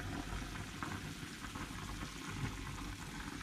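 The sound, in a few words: soup boiling in a pot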